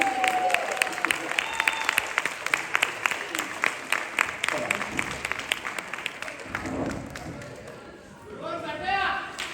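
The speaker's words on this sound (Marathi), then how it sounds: "सगळ्यांनी टाळ्या वाजवली आणि आम्हाला स्किट खूप आवडली." A Ganesh Utsav audience applauds after a skit, with dense clapping that thins out toward the end as scattered voices and crowd chatter take over.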